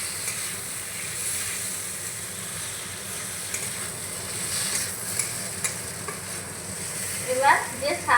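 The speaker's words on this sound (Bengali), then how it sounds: "এই ভেজে রাখা আলুটা আমি দিয়ে দিলাম। ভালো করে মিশিয়ে নেব।" Fried potatoes are stirred into a spiced drumstick leaf masala, a soft steady sizzle with scraping strokes of a spatula that grow louder toward the end, close and with no talk.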